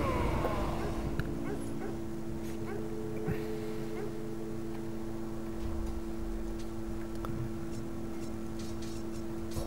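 A stray dog in the game Of Orcs and Men barks and whimpers in short yips over a continuous droning background, with someone talking throughout.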